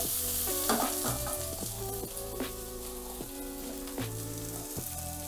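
Lomo saltado stir-fried in a pan over high heat, with a constant close sizzle broken by repeated clanks and scrapes as the food is tossed and kept moving.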